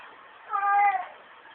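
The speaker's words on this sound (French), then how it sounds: "vous avez entendu le miaulement" A single cat meow, clear and close, rising and falling over about half a second against a quiet background.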